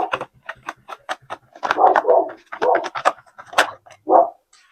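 Dog barking indoors after a knock at the front door, several quick barks mixed with tapping sounds, with a person speaking close by over them.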